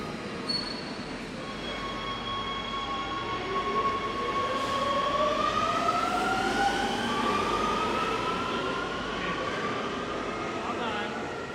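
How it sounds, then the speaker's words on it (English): Rome metro subway train rolling through with sustained, rising and falling wheel squeal over a loud steady rumble, filling the whole stretch close by. "So there's the trains, and then there's the subway system, metro system that we just learned about."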